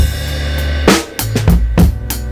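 A 1960s soul track's isolated drum stem: a steady groove of kick, snare hits and cymbals with a roomy, slightly muffled tone.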